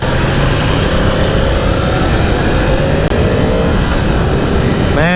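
A Yamaha R1 motorcycle with a cross-plane crank engine runs with a steady, dense, droning roar, loud and close, holding an even tone throughout before a brief rising note near the end.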